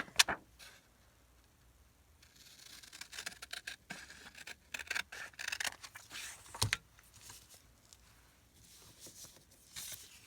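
Scissors snip through a small 2x2 fabric piece for Christmas embellishments, giving a quiet series of close, irregular crisp cuts and rustles with a few sharper ticks, no talking.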